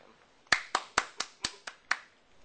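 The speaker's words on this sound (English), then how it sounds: "You may applaud for him." A few sparse hand claps, about seven, spaced unevenly and fairly close, applauding a student in a classroom-style comedy skit; no voices between them.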